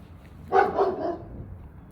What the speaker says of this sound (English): this dog is out here trying to give me some Happy New Year hug or something